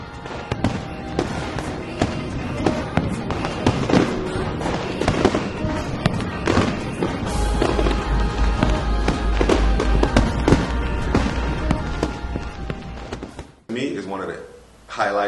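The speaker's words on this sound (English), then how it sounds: "it's the fireworks show" Carnival fireworks in St. Thomas, Virgin Islands pop and crackle in rapid bursts, with booming thuds and a crowd murmuring underneath, ending in a brief lull.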